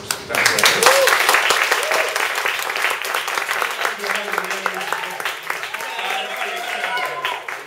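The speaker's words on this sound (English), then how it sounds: "Let's give him a round of applause" An audience claps for a poet at a live reading, a dense sustained round of applause with scattered cheers and voices rising over it, fairly loud and steady before thinning slightly near the end.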